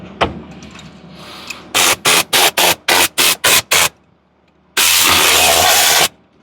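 A Kia Rio's engine cranks in a rapid burst of about eight short starter pulses, then catches for a loud steady run of roughly a second before cutting off, heard up close with no talk.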